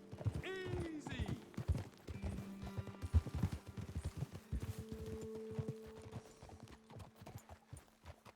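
Horse hooves clip-clop in Red Dead Redemption 2, a steady trotting rhythm of several horses with a whinny near the start, under a game soundtrack and voices talking.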